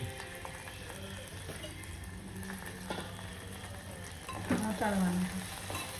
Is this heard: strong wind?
no